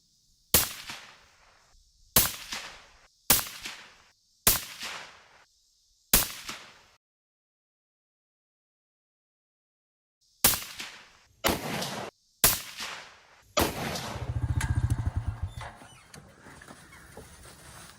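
A rifle fired with a CMMG Zeroed 30 suppressor at an outdoor range: five loud, evenly spaced muffled shots, a pause, then four more, followed by a rumbling noise.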